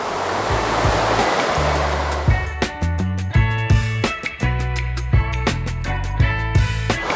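A loud, steady rush of falling water from a waterfall at Castelo dos Bugres, Santa Catarina, Brazil, fills the whole clip, close by and constant, with splashing churn throughout.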